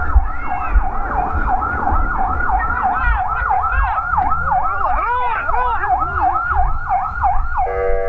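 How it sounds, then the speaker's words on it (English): Emergency vehicle sirens wail continuously at an airstrike site, loud and close, with a second siren rising and falling beneath the first partway through over a low rumble of traffic and distant commotion. "There are screams of desperation and the sounds of sirens as the Israeli drone circles overhead"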